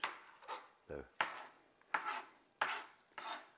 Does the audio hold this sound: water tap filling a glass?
no